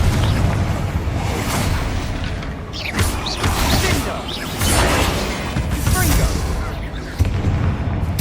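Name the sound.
Confringo and Bombarda spell explosions in Hogwarts Legacy video game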